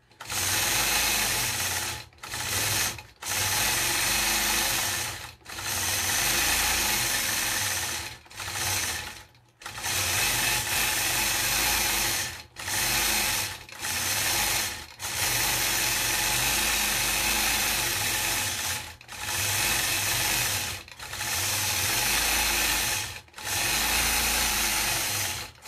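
Sewing machine free-motion quilting feather motifs on quilt blocks, loud close whirring runs of a few seconds each, broken by brief pauses over about twenty-five seconds.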